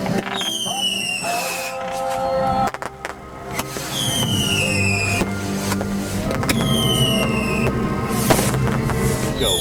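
Firework cakes launching outdoors in a loud, dense barrage, rising whistling tubes repeating in waves over a continuous crackle and rumble of bursts.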